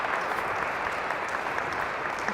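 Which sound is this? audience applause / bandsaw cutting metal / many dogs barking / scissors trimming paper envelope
audience applause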